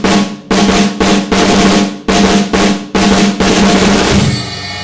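Drum roll pattern from a song played on a kit, a series of dense rapid rolls in evenly spaced bursts, loud and close, ending in a ringing cymbal wash.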